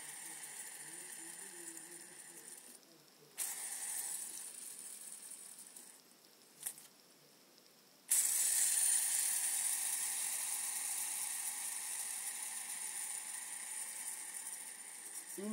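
A cheap plastic fidget spinner whirs with a faint rattling, mechanical buzz, broken by a couple of short pauses before a louder, steadier spin resumes near the end.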